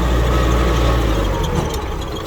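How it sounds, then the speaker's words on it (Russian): Kubota X-24 mini tractor with a half cab, its small engine running steadily and loud throughout as the machine moves, with a slight easing near the end. "Трактор очень резво реагирует"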